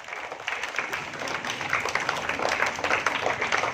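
At a school award ceremony, an audience applauds a bronze-medalist Silambam champion, the clapping swelling after a moment and holding as a steady, moderately loud patter.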